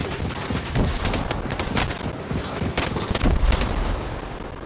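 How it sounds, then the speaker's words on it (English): Firefight in Ghost Recon Breakpoint as a grenade launcher comes out: a steady loud barrage of gunshots with repeated sharp thumping blasts, dense and close throughout. "Grenade launcher out."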